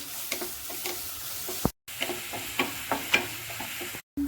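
Ripe plantain pieces roasting in a pan for a sweet vermicelli (semiya) dish: intermittent stirring scrapes and clicks over a soft, steady sizzle, close by, with no talking.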